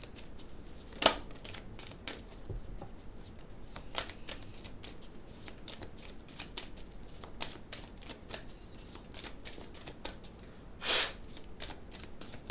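Cards shuffled close up during a weekly energy reading, a steady soft riffling and sliding with a few sharper snaps and slaps, notably near the start and near the end, with no talking over it.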